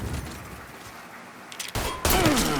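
Gunfire in Mafia III, a burst of shots cutting in over a low rumble of game ambience before swelling louder toward the end.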